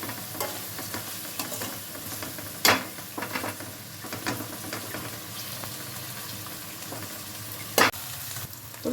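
Ginger garlic paste frying in oil in a pan, a soft continuous sizzle broken by a few sharp scrapes and clinks of a spoon stirring, close and moderately quiet with no talking.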